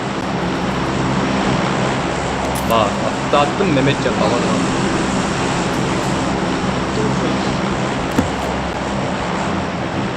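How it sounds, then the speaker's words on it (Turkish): An airplane flies overhead in PUBG, a loud, steady broadband engine drone that fills the whole stretch, with players talking over it. "Uçak geliyor ya sizin üstünüze mi geliyor bu patlatmak için?"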